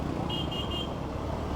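Steady road traffic rumbles on a busy, narrow road near Palaspe, with a faint horn tooting briefly in the distance over the constant engine and tyre noise.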